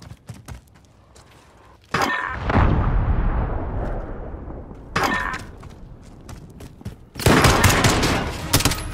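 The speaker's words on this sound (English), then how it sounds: "Allied cruise missile on the way." Allied cruise missile strike in Call of Duty: Modern Warfare: loud, close explosive blasts hit at intervals, each followed by a rumbling, debris-filled roar, with sharp gunfire cracks scattered throughout.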